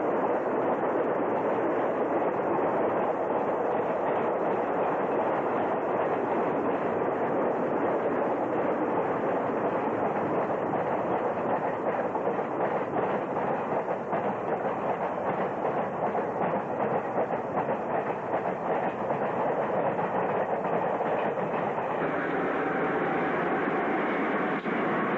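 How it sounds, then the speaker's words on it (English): A freight train with mixed car types passes on an Ontario line heading toward Cochrane, a steady, broad rumble and wheel clatter that holds constant and moderately loud throughout, with no voices. "Look at the different types of freight cars on this train."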